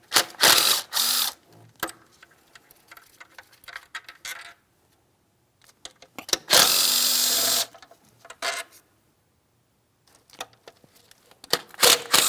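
A ratchet clicks in short bursts as plastic upper intake bolts come off a 2007-2014 Ford Edge 3.5L V6, loud close ratcheting separated by pauses, one longer run in the middle, no voices.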